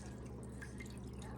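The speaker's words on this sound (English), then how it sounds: "I'm going to pour it around the meat because I don't want to wash off all of that" Bouillon broth poured from a pitcher around meat in a cooking pan, a soft steady trickle and drip of liquid, quiet and continuous with no talking.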